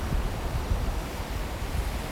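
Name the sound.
ocean waves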